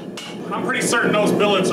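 Hand hammer blows strike forge-welded 5160 steel billets, a few sharp metallic clinks in quick succession, close and fairly loud.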